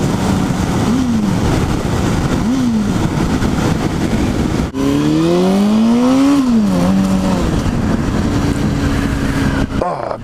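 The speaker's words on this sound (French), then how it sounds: "Ah, petite accélération comme ça fait toujours plaisir" A Hornet motorcycle engine revs on the road, its pitch climbing in two short bursts and then in one longer, strong acceleration before easing off, loud under steady wind rush.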